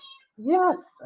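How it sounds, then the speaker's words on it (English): A single nearby cat gives a clear, drawn-out meow that rises and falls, briefly cut in on by other sound at the edges. "That's my cat, Natasha."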